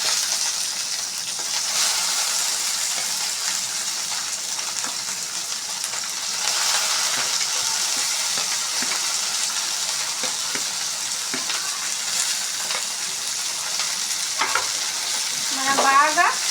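Vegetable ingredients fry and sizzle loudly in a pan as they are stirred and mixed, a dense continuous crackle with spatula scrapes and a brief clatter near the end.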